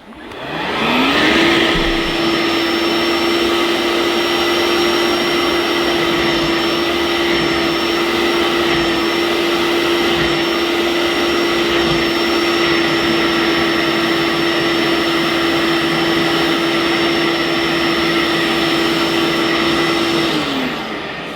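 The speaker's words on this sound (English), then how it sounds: "I'm going to suck up some of the liquid first before applying the solution" Vax Onepwr SpotlessGo cordless spot washer running as it sucks liquid out of a wet patch, a loud steady motor whine with a high tonal pitch that holds for about twenty seconds, close and alone.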